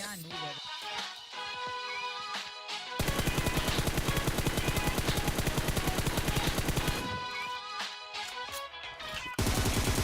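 Automatic gunfire in a battle royale shooter fired from a prone position, loud sustained bursts of rapid shots with brief pauses between strings, over game music and ambience.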